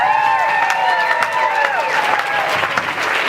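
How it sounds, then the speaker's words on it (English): Applause from an audience at a 2013 Mr. Colonial pageant talent portion, dense and loud clapping with whistles rising and falling over it, all through the short stretch. "So let's give them a round of applause."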